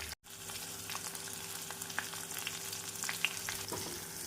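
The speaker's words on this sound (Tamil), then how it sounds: "நாம் உப்பு சேர்த்து ஒரு நிமிடம் வெங்காயம் நன்றாக வதங்கவும்" Onion, tomato and drumstick frying in a pan, making a continuous close sizzle with small crackles and occasional stirring clicks.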